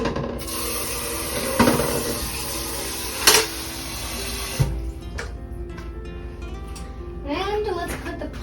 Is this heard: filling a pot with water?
yes